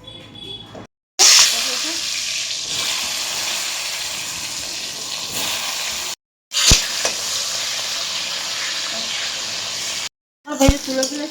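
Potatoes and pointed gourd fry in oil in a pan, giving a loud, steady hiss of sizzling close by that runs on through a few short breaks.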